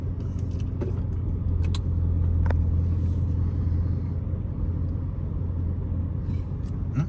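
A Chevrolet C7 Corvette with a burble tune idles in reverse, its engine putting out a deep, steady close rumble with faint clicks and taps over it and no speech.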